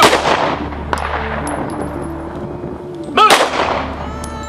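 Gunshots from a defensive shooting drill crack out loud and close, one at the start and another about three seconds later, each trailing a ringing decay, while someone shouts a command.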